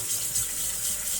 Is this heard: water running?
yes